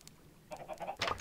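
Chickens in Minecraft give a few short, soft clucks close by. A louder squawk follows near the end, with no talking over them.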